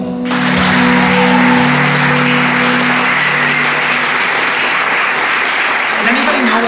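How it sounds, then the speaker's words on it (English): Audience clapping for honorees at a live presentation, a full, steady roar of hands that swells quickly and holds for several seconds, with a low tonal hum and murmur of voices under the opening moments. "Everyone, please give them a big round of applause."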